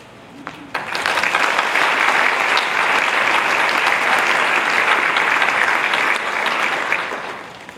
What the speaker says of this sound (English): I'd like to ask you to hold your applause, please, until all 3 ladies have answered their questions